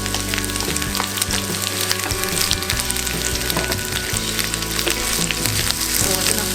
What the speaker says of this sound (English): we're going to start by frying the onions